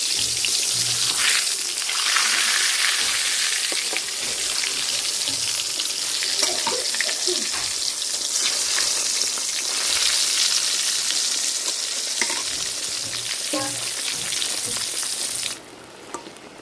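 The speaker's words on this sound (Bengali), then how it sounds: "তেল গরম হয়ে গেছে, প্রথমে বেগুন ভাজা তৈরি করে নেব।" Eggplant slices rubbed with turmeric and salt fry in hot oil, giving a steady, loud, close sizzling hiss with small crackles scattered through it. The sizzle drops away abruptly near the end.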